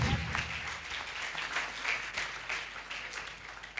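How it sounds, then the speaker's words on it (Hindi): A church congregation applauds during a Friday prayer meeting. The clapping is steady and continuous, comes from many hands across the room, and keeps an even, lively level throughout. "हाँ, ताली बजाओ भाई पूरे चर्च।"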